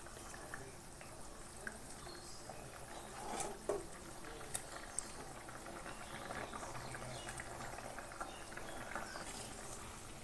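A pot of rohu fish curry with potato and tender vegetable stems simmers quietly, giving a soft, continuous bubbling with faint pops and no voices.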